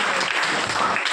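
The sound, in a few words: audience clapping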